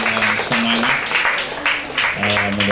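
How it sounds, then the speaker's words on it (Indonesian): An audience at a youth forum on religious moderation in Central Sulawesi applauds two speakers with steady, moderately loud clapping, while sustained tonal sounds run underneath. "Kita tepuk tangan untuk dua narasumber kita ini dengan semangat"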